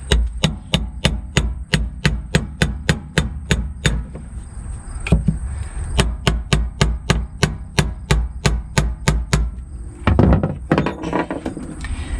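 A fuel pump fitting on a 1999 Land Rover Discovery is tapped tight with a metal punch, giving a long run of sharp, evenly spaced close taps, a pause, then another series of taps and a brief clatter.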